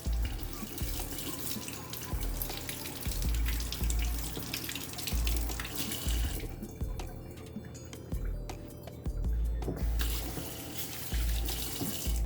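Water runs from a tap while plant balls are being washed: a steady splashing stream into a sink with drips and irregular sloshing, close by, and a brief quieter stretch in the middle, with no voices.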